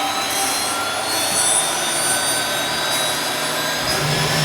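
A turbine engine in a turbine-powered car spools up steadily as fuel is introduced, a loud, sustained roar with a rising high whine, heard close and alone.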